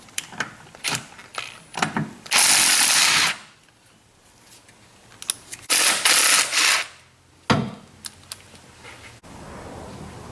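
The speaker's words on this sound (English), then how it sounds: "To remove this pulley from the balancer, I'm using a 1/2 inch socket with a wobble extension." A cordless impact tool with a half-inch socket and wobble extension removes the balancer pulley bolt on a Dodge Viper, loud buzzing bursts of a few seconds each between clicks and handling noises.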